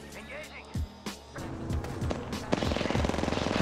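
Gunfire in Apex Legends: scattered sharp shots early, then a fast rattling automatic burst toward the end, loud and close, with a player talking over it.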